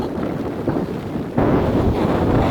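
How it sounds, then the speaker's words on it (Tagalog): Strong wind at Tai Po Lung Mei beach in Hong Kong buffets the microphone with a loud, continuous roaring rumble that surges stronger midway, with no voices present. "grabe ang lakas ng hangin, guys"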